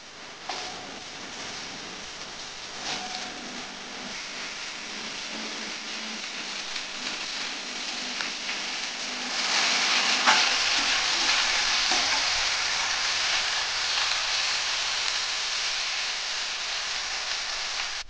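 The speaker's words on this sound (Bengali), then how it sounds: "তো আমি আলুগুলো ভালো করে ভেজে নেব।" Potatoes frying in hot oil with panch phoron and a whole dried red chili, a steady close sizzle with occasional stirring scrapes that swells louder partway through and stays busy to the end.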